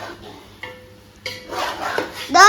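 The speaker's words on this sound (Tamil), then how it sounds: "இப்போ வந்து நம்ம நல்லா கிண்டி விட்டுக்கலாம்" Mutton biryani being stirred in a pot, with a few short metallic scrapes and clinks of a ladle against the vessel, close and brief, with a voice briefly heard near the end.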